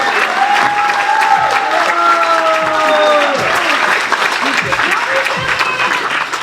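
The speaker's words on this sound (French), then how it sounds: "vous pouvez vous applaudir." Live studio audience at a French radio broadcast applauding loudly and steadily throughout, with cheering voices and whoops rising above the dense clapping.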